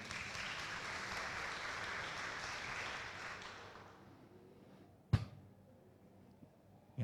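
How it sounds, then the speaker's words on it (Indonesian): Church congregation claps again, a full sustained round of applause that fades out, followed by a few isolated knocks and taps in a quieter room. "Tepuk tangan orang beriman sekali lagi."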